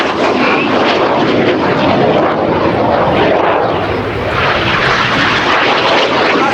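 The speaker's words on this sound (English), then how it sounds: "the aircraft turn hard away from each other, pulling up to 5 to 6G" RAF Red Arrows jets roaring loudly past at the Royal International Air Tattoo air display, a continuous, powerful engine rush that swells and eases slightly as they pass, with no voices.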